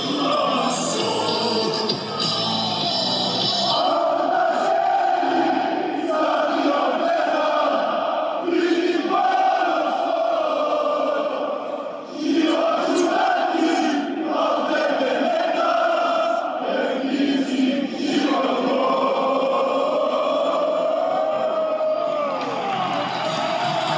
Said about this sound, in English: the music is cut, leaving only the fans singing.